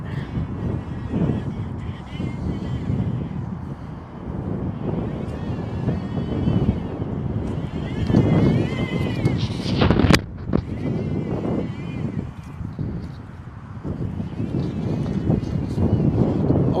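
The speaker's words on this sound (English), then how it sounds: "So apologies about the wind here." Strong wind blows straight into the microphone outdoors in Chicago, a loud, continuous rumbling buffet with gusts, with a person talking faintly beneath it.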